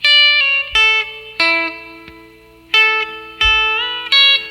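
Clean electric guitar lick with a B-bender in a country style, from a song: a handful of bright plucked notes with bent pitches, ringing and sustaining between attacks, close and alone.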